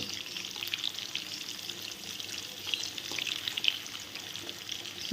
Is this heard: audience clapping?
no